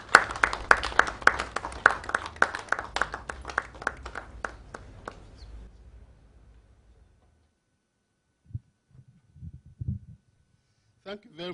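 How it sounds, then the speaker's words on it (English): An audience at a public forum on Ghana's development plan gives a round of applause to welcome the evening's moderator, a dense burst of clapping that thins out and fades over several seconds before a few faint knocks. "with a round of applause, ladies and gentlemen, let's welcome our moderator for the evening"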